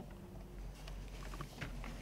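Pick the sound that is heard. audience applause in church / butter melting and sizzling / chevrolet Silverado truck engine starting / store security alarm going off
chevrolet Silverado truck engine starting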